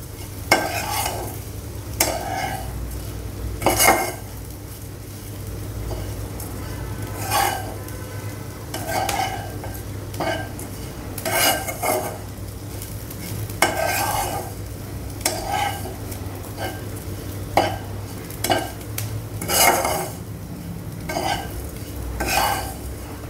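Grated coconut roasts in a pan on a low flame for a Vidarbha-style eggplant and potato curry, with repeated scraping stirs over a soft, steady sizzle and a low hum.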